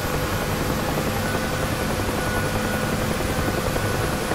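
UH-1 Huey helicopter rotor in the DCS flight simulator game, a loud continuous thumping drone with steady engine whine, no talking.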